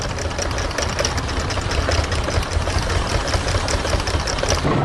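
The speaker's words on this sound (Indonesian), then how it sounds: "Traktor merah sedang menggemburkan tanah dengan plow-nya" A red cartoon tractor's engine chugs steadily as it plows soil in a farm field, a constant close mechanical rattle and knock with no pauses or talk.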